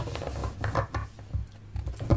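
Tarot cards are shuffled in a few quick bursts of soft papery riffling and tapping, close and fairly quiet, with no voices.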